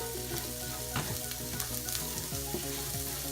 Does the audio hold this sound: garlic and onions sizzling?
yes